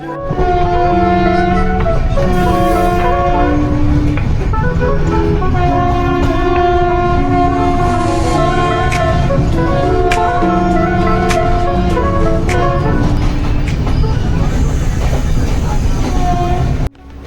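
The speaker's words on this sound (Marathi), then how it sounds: "बघूयात आपण आता ट्रेन निघली आपली" The Nanded-Pune Express pulls away, heard from close by as a loud, continuous rumble with rhythmic clatter and sustained horn tones.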